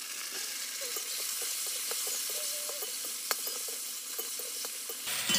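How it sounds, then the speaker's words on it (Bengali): Chopped tomato frying with onion in a pan for egg curry; a soft, steady sizzle with faint crackles and a few light utensil taps, quiet and close, with no talk. "টমেটোটা একটু ভালো করে ভেজে নিতে হবে।"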